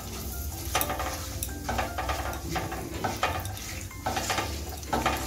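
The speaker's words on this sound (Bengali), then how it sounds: "শুকনা লঙ্কা, লবঙ্গ, দারচিনি, এলাচ, 2-3টে তেজপাতা দিয়ে ফোড়নটা একটু ভেজে নিচ্ছি" Whole spices frying in ghee: cumin seeds, dried chilli, clove, cinnamon, cardamom and bay leaves. A close, continuous sizzle runs under repeated spoon scrapes and stirring knocks against the pan, with no voices.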